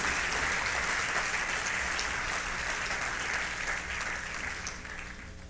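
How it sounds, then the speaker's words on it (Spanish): A church congregation applauds in a dense, sustained wash of many hands during a Spanish-language service, steady and full before easing slightly toward the end, with no voices standing out. "Dele fuerte ese aplauso al Señor"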